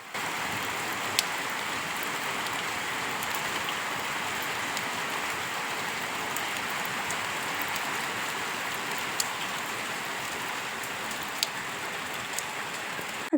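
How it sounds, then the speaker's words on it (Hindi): Light rain falling steadily in a continuous, even hiss, with occasional sharper drips landing on nearby surfaces; no voices. "हल्की हल्की बारिश स्टार्ट हो गई थी"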